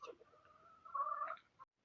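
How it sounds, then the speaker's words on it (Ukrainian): Chickens and roosters in a village farmyard, a single faint drawn-out clucking call heard at a distance, alone without talk. "У нас кілька гарних півнів є."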